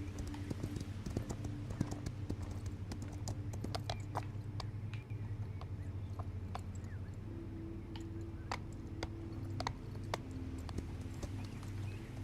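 Horse hooves clip-clopping in the Equinox: Homecoming video game, a steady run of crisp, close hoof strikes over a low constant background hum.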